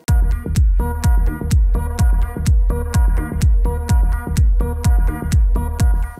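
Two melodies from an electronic music production, a low bass-register line and the same line transposed higher, layered with a steady beat and repeating plucked notes, loud and continuous with no talk.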